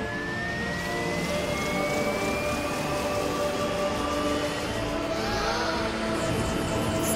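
Science-fiction flying machine powering up for liftoff: a steady whining hum with a slowly rising tone and layered mechanical drone, loud and continuous, with a brighter swell near the end.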